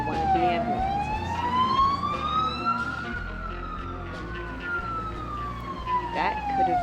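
Police car and ambulance sirens wail in a JJBA fangame visual novel scene outside a motel, one continuous loud siren sweeping slowly down, up and down again, with no one speaking.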